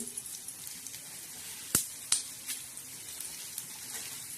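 Coriander seeds roasting in oil in a pan for a homemade black masala, a soft, steady sizzle with faint crackles and two sharp clicks of a spoon against the pan.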